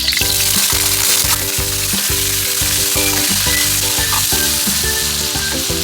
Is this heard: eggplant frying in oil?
yes